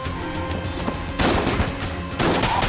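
Rapid poison gun shots in Enter the Gungeon, a dense run of loud, overlapping bursts with no talk.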